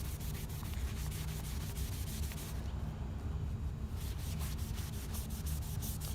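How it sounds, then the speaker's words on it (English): A cloth buffs Briwax Tudor brown wax on pine wood in quick, repeated rubbing strokes, a close, steady scrubbing rhythm with a brief pause midway and no talk. "we can probably just go ahead and buff it"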